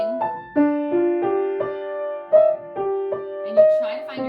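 Piano notes played in a halting, uneven rhythm as the player pushes on through a mistake without stopping. The clear single tones are close and moderately loud.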